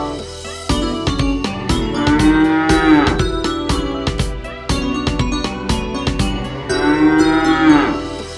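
A cow moos twice, loud and drawn out, over a rhythmic children's farm song with percussion and instruments.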